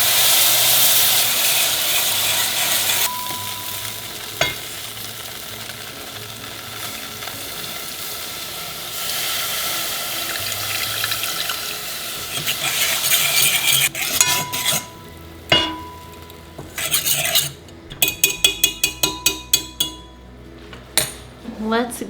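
Liquid goes into a sizzling flour roux for a venison pot pie gravy. Loud frying hiss at first gives way to spoon clinks and scraping against the pot as the mixture is stirred.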